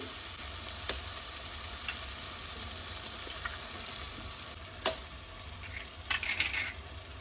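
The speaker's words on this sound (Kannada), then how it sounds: "ಇವಾಗ ನಾನು ಇದರೊಳಗಡೆ ಮೊಟ್ಟೆನ ಹೊಡೆದಾಕ್ತೀನಿ" An egg fries in a pan of egg rice with a steady, close sizzle throughout, broken by a few sharp clicks and a brief louder crackle near the end.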